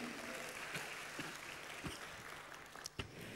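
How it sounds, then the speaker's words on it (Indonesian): Congregation applauding during a church sermon in Ngawi, a fairly faint, steady wash of claps with a few sharper accents, heard without speech. "Tepuk tangannya lebih meriah lagi"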